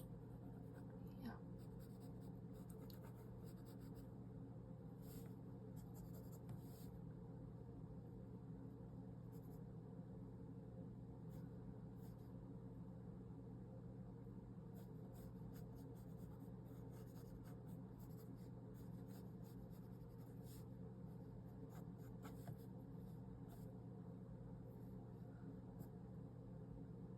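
Pen scratching and sketching skulls in a sketchbook, soft close strokes and scribbles over a low steady background hum, faint and continuous with scattered brighter scratches.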